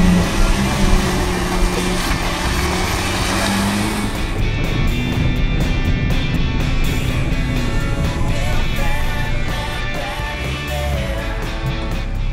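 A Mitsubishi RVR compact SUV in locked four-wheel drive pulls away slowly, half in water and half on sand, its engine droning steadily with constant road and water noise.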